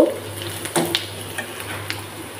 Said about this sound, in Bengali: এই পর্যায়ে এসে আমি পানি দিয়ে দিব